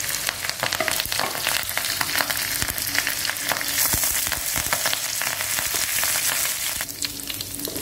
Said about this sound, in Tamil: நம்ம போட்ட இது தாளிப்புலாம் ரெடி ஆயிடுச்சு